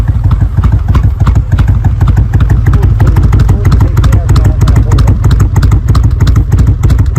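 Motorcycle engine fitted with heat-wrapped (bandaged) muffler exhaust, running steadily with a deep, rapid low-frequency pulse throughout, loud and close, with a fast even rumble and no talking.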